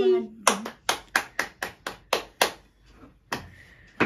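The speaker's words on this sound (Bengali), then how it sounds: "হাততালি" Family members clap after singing happy birthday at a home celebration, a run of about ten sharp, evenly spaced handclaps up close, pausing briefly before a final couple of claps.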